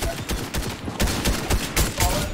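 Rapid bursts of gunfire in Fortnite ring out in repeated volleys across the whole stretch, loud and close, with faint talk mixed in.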